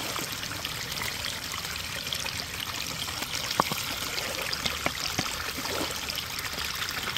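Water pours and trickles steadily over a Dream Mat dual-mat gold sluice outdoors in West Virginia, a constant rushing wash with a few faint clinks of gravel.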